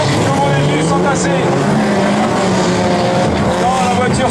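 Stock car race cars roar past in a loud, dense pack, engines wailing and shifting pitch, while a voice talks over the din.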